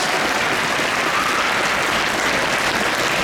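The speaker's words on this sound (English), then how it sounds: "Guys, a round of applause!" A crowd at a Comic Con Q&A session in Rotterdam Ahoy applauds continuously, dense and loud clapping filling the whole moment with no pause.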